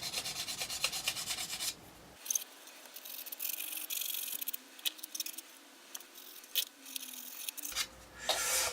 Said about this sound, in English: let's go in with a sanding stick and just see if we can tidy this up a little bit